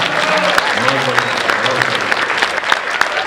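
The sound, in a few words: audience applause at Hindi poetry recital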